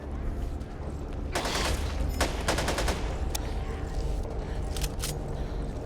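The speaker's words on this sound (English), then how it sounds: "Assault rifle!" Assault rifle fire in a zombie video game, bursts of rapid shots over a constant loud game soundscape, with a few shorter bursts later on.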